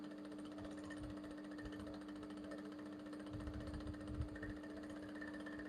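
A sewing machine stitches boning onto a Basque blouse with a yoke, a steady motor hum running throughout with a fine mechanical texture, a few louder bursts of the needle near the end, and no talk.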